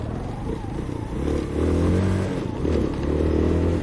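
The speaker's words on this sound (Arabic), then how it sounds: "انا دوز بوان مور وهو الموتور مازال امارش." Car engine running steadily as the car drives along a road without using the clutch, a low continuous hum and rumble that swells slightly, with some rattling and road noise.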